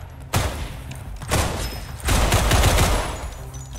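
Gunfire in the Roblox game Decaying Winter: three loud bursts of rapid shots, the last one longest and densest, each breaking in sharply with booming low thumps and a dense crackle.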